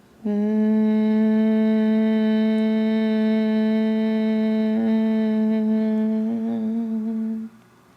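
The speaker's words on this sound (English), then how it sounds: "with your mouth closed, begin exhaling with a humming sound at the back of your throat." A single long hum made with the mouth closed on a slow exhale at the back of the throat: a steady, loud, buzzing tone held for about seven seconds, then cut off, with no other sound.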